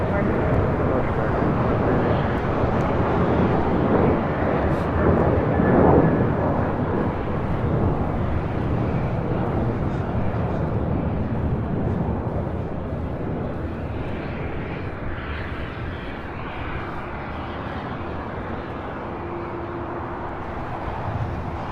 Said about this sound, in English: Got the 777 now rolling down 25 right.